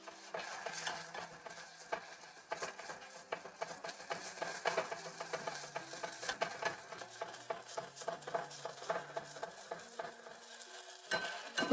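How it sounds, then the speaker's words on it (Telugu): Ginger garlic paste frying in a pan for an Andhra curry leaf chicken curry, a soft sizzle under repeated scraping and stirring of a spoon against the pan, faint and close, with no talk. "ఈ అల్లం వెల్లుల్లి పేస్ట్ని మనం పచ్చివాసన పోయేదాకా కొంచెం వేయించుకోవాలి."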